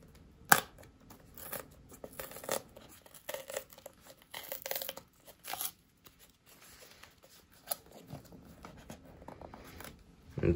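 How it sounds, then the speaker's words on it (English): Thin plastic film is peeled off a boxed pair of AirPods 3 in short crinkling tears and crackles, separated by pauses, close and fairly quiet with no voices. "So let's just peel it from the other side."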